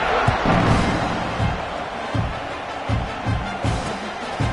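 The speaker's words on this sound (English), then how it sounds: "this crowd is buzzing after that last score." A stadium crowd in a football video game keeps up a low, steady murmur after a touchdown, broken by several dull thumps spaced through the stretch, with no talk on top.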